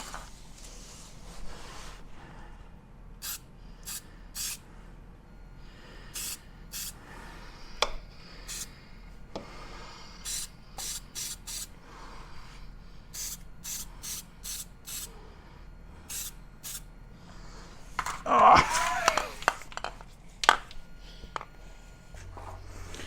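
Short bursts of aerosol spray paint hiss in quick separate squirts onto a Yamaha Grizzly 700 ATV chassis under repair, with light handling noises between bursts and a louder cluster of sprays near the end.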